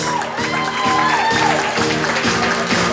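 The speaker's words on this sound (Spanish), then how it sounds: "Un fuerte aplauso para ellas." Quinceañera guests applaud and cheer the dancers, a dense wash of clapping with some whoops over steady thumping party music.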